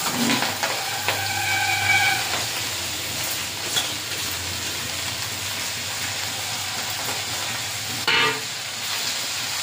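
Leafy greens frying with browned garlic, onion and chilli in a village kitchen, a continuous hissing sizzle throughout, with a brief tonal horn-like sound early on and a clatter near the end.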